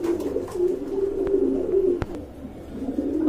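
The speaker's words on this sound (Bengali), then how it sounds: "আর এখানে রয়েছে এক জোড়া মিলি কবুতর মাশাআল্লাহ, এটা বিগ সাইজের কবুতর" Large domestic pigeons at a pigeon farm coo in low, steady, continuous murmurs from nearby, with a couple of sharp clicks breaking in.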